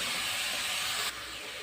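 Finely chopped capsicum sizzling in a hot pan over high flame, a close, steady hiss that drops slightly in level partway through.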